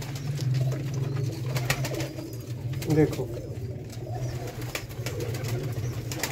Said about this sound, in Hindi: सियालकोटी छत वाले कबूतर